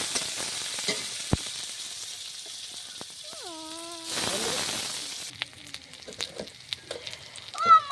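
Sliced onions frying in hot oil with whole garam masala, bay leaf and dried chillies, a steady close sizzle broken by occasional utensil clinks and stirring.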